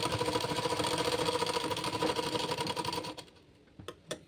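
A sewing machine stitching a folded blouse hem on the wrong side, its fast even whir running for about three seconds before stopping, followed by a few faint knocks and handling noises.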